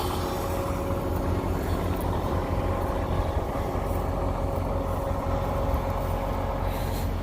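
A big farm tractor's heavy diesel engine idles while warming up, with a steady, rumbling drone and a low mechanical hum, continuous and unchanging throughout.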